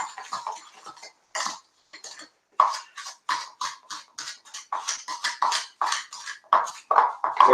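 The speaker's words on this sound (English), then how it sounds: "I like the fork because it's going to kind of it's going to break up that brown sugar a little bit" A metal fork scrapes and taps against a bowl while breaking up clumpy brown sugar for rugelach filling, a quick irregular series of close, clinking strokes with short pauses between.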